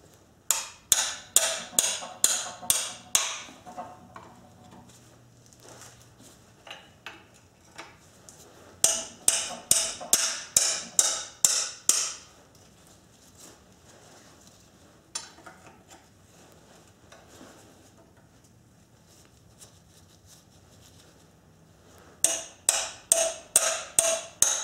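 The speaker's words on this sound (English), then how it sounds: "these bolts are really tight, so 3-pound hammer." Bursts of sharp metallic blows from a 3-pound hammer on tight engine bolts ring out in quick rhythmic runs of about six to eight strikes, separated by quiet pauses.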